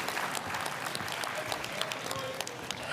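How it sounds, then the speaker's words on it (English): Steady applause from an audience at a livestreamed tech conference, a dense, even wash of clapping that fills the whole moment with no voices above it. "Round of applause for the excitement."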